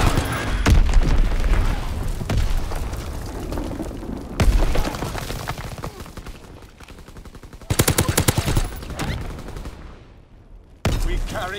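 Flitz X bomb dropped in Call of Duty WWII, loud explosions and heavy booms amid rapid bursts of gunfire, with a short sharp blast late on and a sudden cutoff into near silence before noise resumes.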